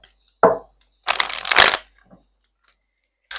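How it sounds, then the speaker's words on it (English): Cards shuffled during a tarot-style reading: one short riffle burst, then a longer dense ruffle of a deck, with a brief shuffle at the end, no talking. "All right, one more shuffle."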